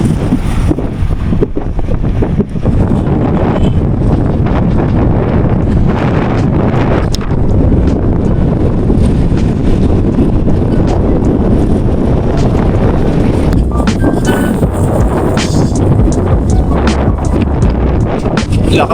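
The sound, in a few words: strong wind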